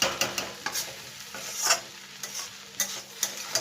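Egg noodles stirred in an iron or non-stick wok, with a run of close scraping strokes at an uneven rhythm over a soft frying sizzle.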